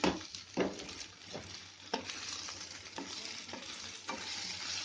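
Bitter gourd sizzles softly in a pan on low flame while a spoon stirs it now and then, a gentle, steady crackle with occasional scraping, faint and close without speech.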